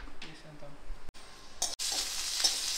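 Two medium onions, sliced lengthwise, frying in a little oil as the base of a vegetarian Maratha dish: quiet stirring at first, then a bright, steady sizzle rising close by after a couple of brief pauses.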